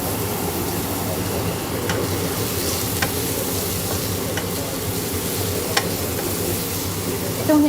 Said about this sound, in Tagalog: Itong hinalo ko na karne guys.